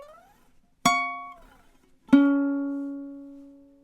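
Two plucked ukulele notes from the Curb Your Enthusiasm theme, measure 4, played alone and close: a short note followed by a longer ringing one that decays slowly.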